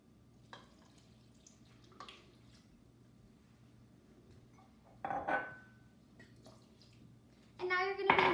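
Very warm water is poured into a pioneer-style bread mixture with shortening, giving a brief splashing pour and then a longer, louder stream near the end, among faint kitchen clinks in a quiet room.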